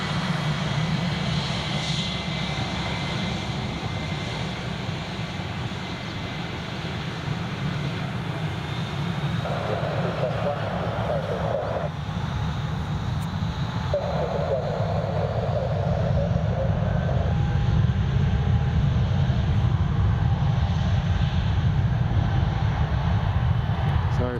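A Jet2 airliner at Newcastle International Airport gives a steady, loud engine roar that swells slightly over the span, with a continuous broadband rumble and faint background voices.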